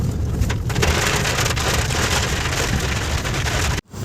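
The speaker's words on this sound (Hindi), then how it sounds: "बारिश वाकई इतनी ज़्यादा तेज़ थी" Heavy monsoon-style rain pouring at a temple site in India, a dense, loud, steady hiss of drops drumming on surfaces, continuing unbroken before a sudden brief cutoff at the end.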